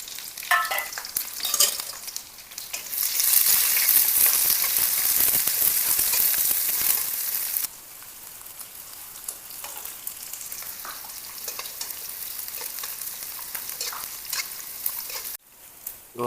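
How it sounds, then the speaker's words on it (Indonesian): Empon-empon spice paste for East Javanese rawon fries and sizzles loudly in a pan with constant hiss and stirring scrapes, easing to a quieter sizzle partway through before a brief sharper burst at the end. "Goreng sampai mateng"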